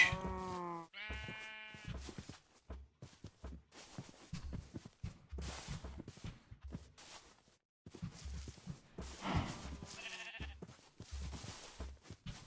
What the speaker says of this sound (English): having a sheep wouldn't hurt, but I also don't really need a sheep